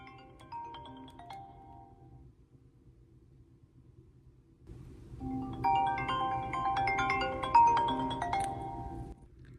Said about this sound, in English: Apple changed the sound of the default reflection ringtone